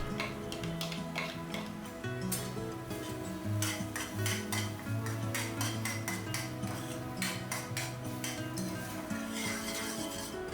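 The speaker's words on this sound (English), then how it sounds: "add the soaked soya granules and mix everything well" Soaked soya granules and mushy tomatoes stirred in a pan for soya bhurji, a steady run of close spoon scrapes and metallic clinks against the pan, under a faint background hum.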